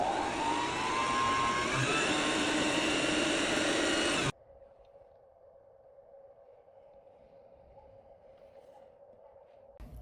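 A sewing machine stitches a ribbon into a fabric book sleeve liner, running loudly and steadily for about four seconds before stopping, leaving a faint, low steady hum for the rest.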